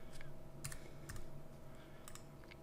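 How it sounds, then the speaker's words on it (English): A few light, sparse keystrokes on a computer keyboard, quiet clicks clustered in small bursts against a low background hum, with no speech. "now I'm going to just type in 69"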